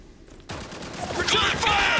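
A burst of rapid gunfire breaks out in the video game Spec Ops: The Line, dense crackling shots rising in loudness over two seconds, mixed with shouted voices.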